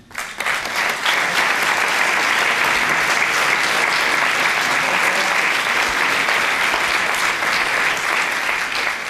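An audience at a tribute event in Porto honoring Humberto Delgado bursts into loud, sustained applause, dense steady clapping that fills the room from start to finish without talk over it.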